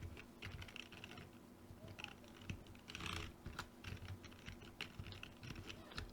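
Soft, quick keystrokes on a computer keyboard while working in Cubase music software, faint and uneven, with brief pauses between bursts.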